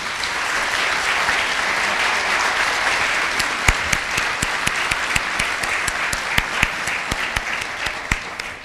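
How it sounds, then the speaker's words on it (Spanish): An audience at a panel discussion on transparency and access-to-information law applauds the panelists, a loud, full round of clapping that thins toward the end into scattered, distinct individual claps. "quiero pedir un gran aplauso para nuestros panelistas"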